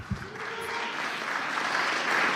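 An audience at an interfaith conference breaks into applause, starting from a few claps and swelling into a steady, dense wash of clapping that grows louder toward the end.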